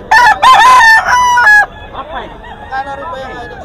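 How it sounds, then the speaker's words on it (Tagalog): Roosters and chickens at the Bocaue pet market crow loudly and close by, in two or three strong calls. Softer clucking and distant crowing follow. "Paubos na ang mga manok."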